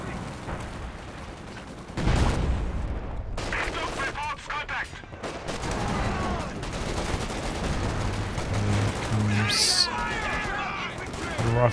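US riflemen fire in a Company of Heroes 2 battle, with rattling bursts of rifle and machine-gun fire and distant blasts over continuous battlefield noise, under a voice.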